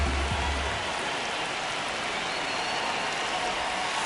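Rain falling on a ballpark in the baseball video game MLB The Show, a steady hiss of dense rainfall with a brief low thump at the start.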